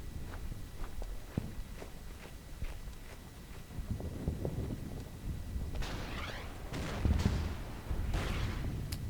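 Artillery fire in the Blitzkrieg strategy game, a run of dull booms and thuds scattered over a low rumbling battle backdrop, with a few sharper bursts toward the end.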